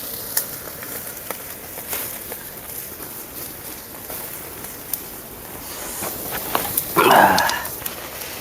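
Oil poured over tandoori chicken on an open fire flares into a brief, louder sizzle near the end, rising out of a low, steady background crackle with occasional clicks.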